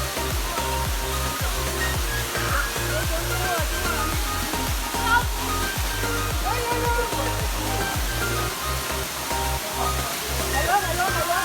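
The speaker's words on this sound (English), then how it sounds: "So we are here at the waterfall." Waterfall at Akropong Akuapem roars as a steady, dense rush of falling water, close and constant throughout, with faint voices mixed underneath.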